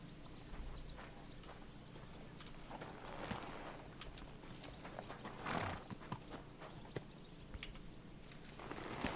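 Horse hooves clip-clop steadily as a rider travels on horseback in Kingdom Come: Deliverance II, with close, rhythmic hoofbeats over an outdoor ambience and an occasional louder step.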